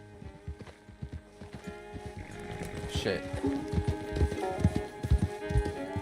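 Horse hooves clip-clopping in Red Dead Redemption 2, a steady walking rhythm of close, distinct hoofbeats under intermittent talk and game sounds, with a voice briefly cursing.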